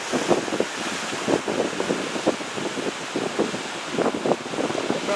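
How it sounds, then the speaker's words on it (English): Gusty wind roars across the microphone at Folly Beach, with ocean surf rolling underneath in uneven surges, loud and continuous with no voices. "You probably hear the wind."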